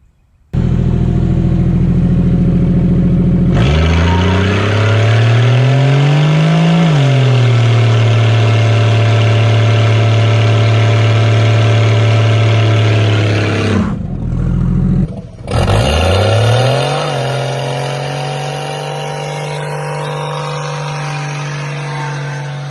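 A slant-six car engine with no rear brakes bursts to life and revs hard through a burnout, loud and sustained, pitch climbing and dipping, briefly cutting out before roaring back and settling into a steady high drone.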